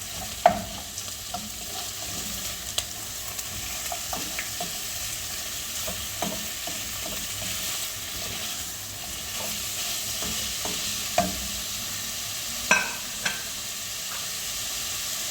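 Meat and onions stirred as they fry in a pan, a steady soft sizzle with scattered scraping clicks of the utensil across the pan, close and continuous for the whole stretch.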